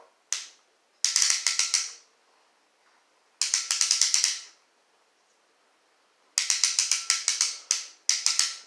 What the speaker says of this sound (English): Here you can hear that ratchet right now.